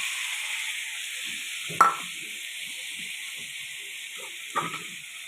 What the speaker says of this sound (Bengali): এই সবজিগুলোকে নিয়ে এর ভিতরে তেলের ভিতরে দিয়ে দেবো